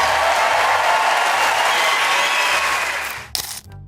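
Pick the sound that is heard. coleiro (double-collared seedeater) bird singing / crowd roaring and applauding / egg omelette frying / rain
crowd roaring and applauding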